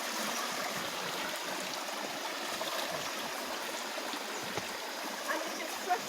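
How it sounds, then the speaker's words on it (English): Fresh, clean stream water flows out of rocks in a forest with a continuous close rushing and gurgling that stays loud and even from start to finish. "And it is fresh water, so clean, because it is coming out of the rocks."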